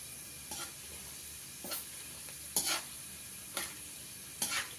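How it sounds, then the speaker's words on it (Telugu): Dry fruits such as raisins and pistachios fry in a pan for kesari with a quiet, steady sizzle, broken by several soft scraping stirs at regular intervals. "అయిపోయిందండి, ఫ్రై అవుతుంది."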